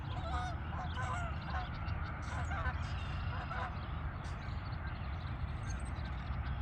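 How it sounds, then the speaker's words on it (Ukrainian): Several geese honk repeatedly in overlapping calls while flying over a lake, over loud, steady wind noise, the calls fading after the first few seconds. "Гусі корличуть"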